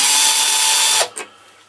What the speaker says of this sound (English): I'm going to take one of these screws out to